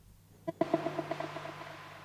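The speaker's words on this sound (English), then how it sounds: "it's a noise burst basically, with a hiss tape mode echo and another delay." A sharp noise burst from a drift synthesizer followed by a string of decaying hissy tape echo and delay repeats that fade out over about a second and a half, alone and fairly quiet.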